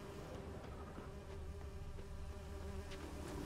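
Bees buzz in The Witcher 3, a steady faint droning hum with a sustained whine layered over quiet ambient game sound, and no one speaking.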